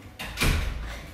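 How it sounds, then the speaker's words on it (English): A kitchen door swings shut with a quick whoosh and a muffled thud, then a low rumble fades out; no talking. "Close the door."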